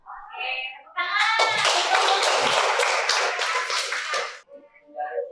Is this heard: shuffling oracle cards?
no